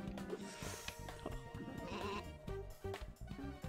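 Sheep bleat in the video game Une Faim de Loup, short wavering cries mixed into busy game music and effects, fairly loud and close.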